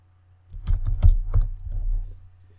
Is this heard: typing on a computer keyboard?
yes